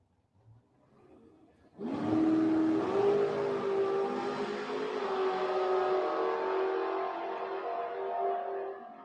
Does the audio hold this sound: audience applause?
no